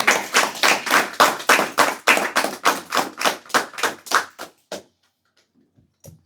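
An audience claps after a mantra meditation session in a loud, close, rhythmic burst of steady even beats lasting about five seconds. It breaks off into a few scattered last claps and then near silence.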